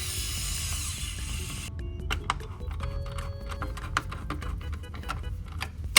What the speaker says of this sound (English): Screw the pump head on and you are good to go.